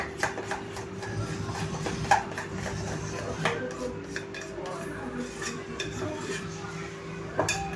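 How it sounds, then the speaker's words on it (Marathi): Pakoda batter whisked in a bowl, a steady close scraping and clinking of utensil against the bowl that continues throughout, with a faint steady hum in the background. "हे छानपैकी आपण आता फेटायचं आहे."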